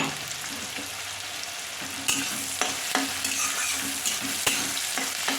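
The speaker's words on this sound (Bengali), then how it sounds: "এবার পেঁয়াজটা ভাজার সময় আমি একটুখানি গোটা গরম মশলা থেতো করে রেখেছিলাম, সেই গোটা গরম মশলাটা ওর মধ্যে দিয়ে দিলাম।" Chopped onions frying in a pan with crushed whole garam masala, a steady sizzle under repeated stirring clicks and scrapes of a spoon, close and moderately loud.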